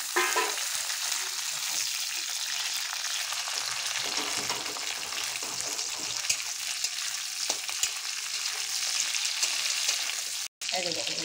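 Hilsa fish heads frying in oil with five-spice and green chillies, a dense continuous sizzle with occasional stirring, close up, with a brief dropout near the end.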